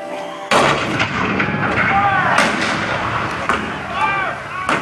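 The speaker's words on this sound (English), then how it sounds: "The cannon spoke for war, bitter, violent, and devastating." Heavy cannon fire at Fort Sumter in a theme-park attraction soundtrack: a sharp opening blast followed by several more booming shots and rumbling reverberation, loud and close, with whistling tones between the reports.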